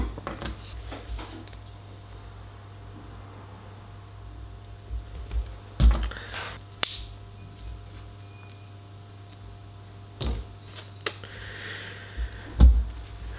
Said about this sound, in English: just going to cut that wire off